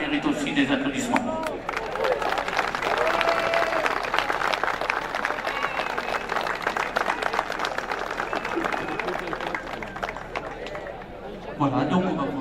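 Audience applause at an outdoor award ceremony after a historic hill climb, sustained clapping from a large crowd mixed with chatter, with a speaker's voice at the start and end.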